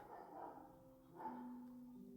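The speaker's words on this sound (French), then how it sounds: "il y a ma chienne qui commençait à aboyer" A female dog barks indoors during a home workout session, giving two faint, drawn-out barking calls with a tonal, whining edge, heard at a distance.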